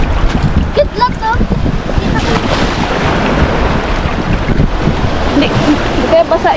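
Rough ocean waves splash against a small boat in strong wind, with heavy wind buffeting the microphone throughout and constant loud water noise.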